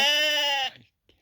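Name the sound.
sheep and lamb bleating in a corral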